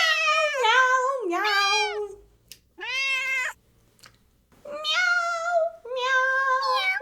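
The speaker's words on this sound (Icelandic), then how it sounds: "Kötturinn segir mjá." A cat meows over and over, a string of long, loud, close wailing meows split by short pauses, with no voices around them.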